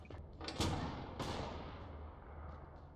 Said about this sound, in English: There's quite a bit of explosions going off.